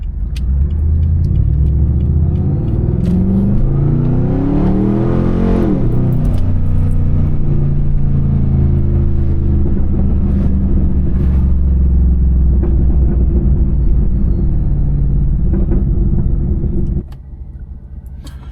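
A Pontiac G8 GT pulls hard with a loud, deep exhaust roar that climbs through a rising rev sweep, then drops into a steady rumbling drone and cuts off near the end; no talk.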